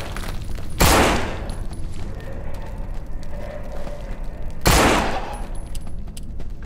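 Two loud, separate gunshot blasts, several seconds apart, in the zombie survival game No More Room in Hell, each with a short ringing tail over a steady, noisy background.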